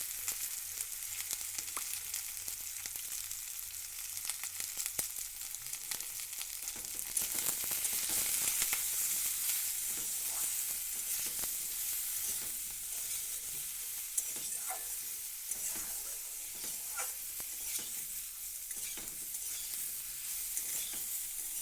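Turmeric stirred into drumstick flowers frying in a pan, a steady hiss of sizzling oil with soft scraping strokes of a spatula running throughout, fairly close and even, no voices.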